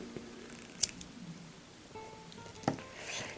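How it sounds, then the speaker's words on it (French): Scissors snip through paracord during bracelet making, a single sharp cut followed by a second fainter snip about two seconds later, close and clear against a quiet room. "Je prends mes ciseaux"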